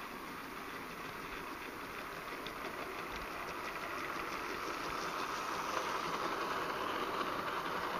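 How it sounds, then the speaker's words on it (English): Pullman diner train at a Great Western Railway festival, a steady low rumble of the train running or idling at moderate distance, even and continuous with a faint high whine above. "Now here's William on the fantastic Pullman diner train"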